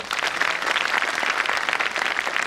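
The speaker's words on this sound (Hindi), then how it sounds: "इसके लिए आप जोरदार तालियां बजाइए।" An audience claps enthusiastically at a university national seminar inauguration marking the golden jubilee year, producing a thick, continuous burst of many hands that stays loud and steady throughout.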